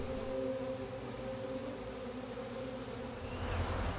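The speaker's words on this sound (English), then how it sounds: "I've never seen a swarm of bees in a couch cushion before." A swarm of honeybees buzzing inside a couch cushion: a steady, droning hum close by, continuous with no talking.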